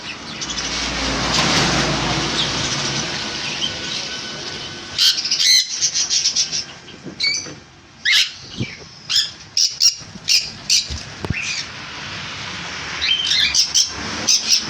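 Cockatiels, including black cockatiels, and conures squawk and chirp repeatedly in loud, sharp bursts at a bird shop, with a rumble of passing traffic in the background early on.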